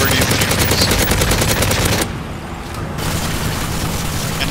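Russian enemies in Call of Duty MW3 fire loud, rapid automatic gunfire in dense bursts. The shooting pauses briefly partway through, then returns at a lower level.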